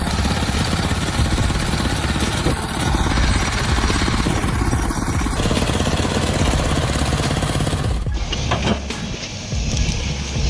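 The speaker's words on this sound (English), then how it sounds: "Witness the extraordinary power of the tractor, a resilient and durable machine, ready to conquer any terrain. With the resounding engine sound," A SANY SY200C working off-road over rough terrain, its engine running loud and steady with a rough, clattering drone throughout and a brief shift near the end.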